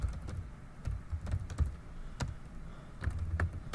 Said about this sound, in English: So as I'm typing here, I'm taking advantage of hitting the tab key a lot to do the auto-completing.